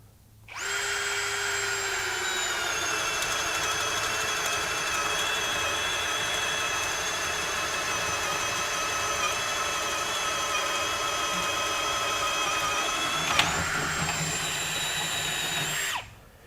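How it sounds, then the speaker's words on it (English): A Ryobi HP 18V One+ compact drill whines steadily as a 3/4-inch self-feed spade bit bores through a thick 4x6 wooden post for about fifteen seconds, then spins down and stops. "This is a 4x6 post. And so we'll see if we can't drill through here"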